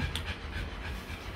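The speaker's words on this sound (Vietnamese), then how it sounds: "cập nhật tình hình đàn chó con của Messi và Bruno" A mother dog with newborn puppies pants rapidly and steadily close to the microphone, a breathy, rhythmic huffing with no voices heard.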